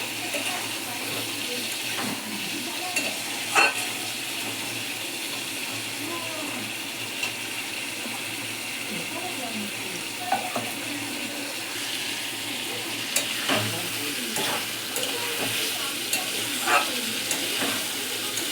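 Spice paste and whole small potatoes fry in a pan with a steady sizzle, while a spoon or spatula stirs and occasionally clinks against the pan across the whole stretch.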